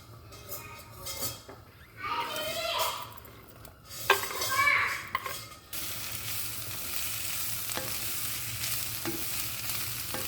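Sliced onions lightly fry in a spoonful of oil in a pan, giving a soft sizzle with stirring scrapes and faint utensil clinks, while a voice talks intermittently early on.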